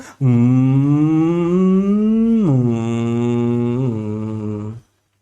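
A voice imitates a passing bike with a sustained droning hum that rises slowly, then drops sharply in pitch as it goes by, and fades.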